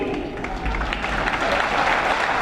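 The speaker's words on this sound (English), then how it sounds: "Let's give them a big round of applause." Crowd applause in a high school basketball gym, a moderate, steady roar of clapping and cheering from the stands, somewhat distant and reverberant, lasting throughout.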